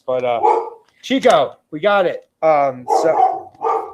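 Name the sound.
dog barking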